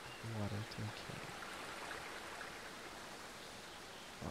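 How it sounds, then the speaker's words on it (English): In the video game Eastshade, steady rushing water like a stream fills the background, with a brief burst of speech at the start. "Sounds like there's water over here."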